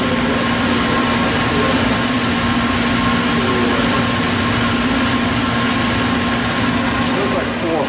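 A Mollart Omnisprint LD2-750 CNC knee-type deep hole gun drilling machine runs its back spindle up, giving a loud, steady mechanical drone with a fixed whine and a constant low hum that fill the whole stretch.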